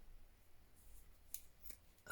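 A few quiet, crisp snips of scissors cutting through frayed ribbon, spaced out, ending with a sharper cut.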